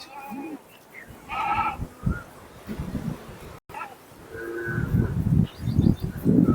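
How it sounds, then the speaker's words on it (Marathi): Goats at a livestock sale, bleating several times in short wavering cries, some near and some farther off, over rustling and handling noise. "हे बघा हे बघा शेळी"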